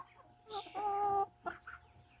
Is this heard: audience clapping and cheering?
no